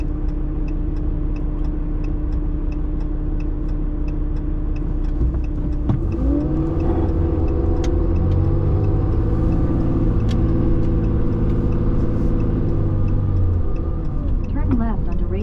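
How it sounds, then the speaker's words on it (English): Steady road traffic with cars rolling and accelerating past along Rangeview Boulevard Southeast, a continuous close engine rumble with rising whooshes, heard from inside a moving vehicle. "Where all this traffic coming from?"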